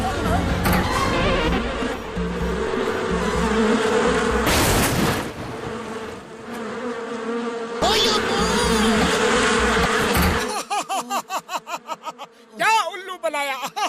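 Giant cartoon mosquitoes in a Motu Patlu episode buzz loudly and continuously, with voices, laughter and music over the whine, ending in a string of rapid, pulsing buzzes.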